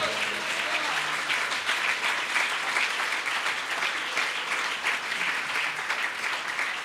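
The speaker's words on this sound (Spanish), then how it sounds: "denle un aplauso al Señor fuerte." A church congregation at a convention service in Aruba applauds loudly and continuously, a thick wash of many hands clapping close by, with faint voices mixed into the sustained ovation.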